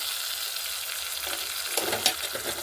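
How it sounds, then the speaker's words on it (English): Tomatoes frying in a pan on a village cookfire on a rainy evening, a steady soft sizzle with a few louder scraping stirs and clicks toward the end, no talking. "Then you start stirring the tomatoes so that they can dissolve a bit."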